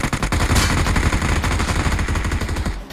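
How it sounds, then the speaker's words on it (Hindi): Rapid automatic gunfire in the mobile battle royale game BGMI (PUBG Mobile), loud bursts of shots running almost continuously for the whole stretch with no talking. "अब ये पोट्टे मेरे पे गोली चलाते"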